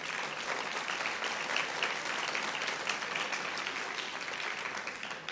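A large student audience at the Air and Space museum applauds steadily for several seconds, a dense, even wash of many hands clapping with no talk over it.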